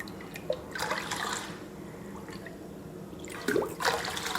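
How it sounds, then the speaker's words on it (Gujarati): Water goes into a bowl of bajra (pearl millet) while khichdi is being made, with splashy pouring bursts and trickles that come and go in two main spells, close and moderately loud, with no talking. "તો આપણે 3 ગણું પાણી એમાં એડ કરીશું"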